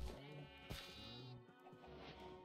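A Minecraft sheep gives a couple of wavering bleats, close and moderately loud, heard on its own without speech.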